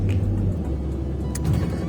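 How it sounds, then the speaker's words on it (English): Steady low engine rumble of slow, bumper-to-bumper rush hour traffic in Southern California, with cars idling and creeping along nearby and faint passing swells, no voices. "Bumper to bumper, rush hour, Southern California traffic is the worst."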